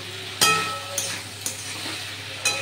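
A spoon stirs fried potatoes into a broccoli curry in a pan, giving four sharp scraping strokes over a steady background sizzle.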